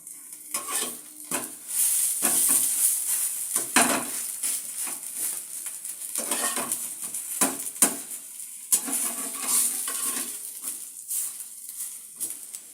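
Stuffed pumpkin-leaf fritters fry in oil in a pan, giving a continuous sizzle broken by spatula scrapes and stirring clatter, close and fairly loud, with no one speaking.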